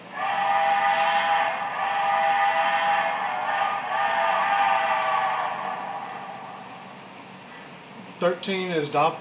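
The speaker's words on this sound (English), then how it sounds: "Function 12, grade crossing whistle." The grade crossing steam whistle sound of an HO-scale MTH model steam locomotive blows in a long, loud, sustained tone for about eight seconds, then cuts off, followed by a short burst of talking.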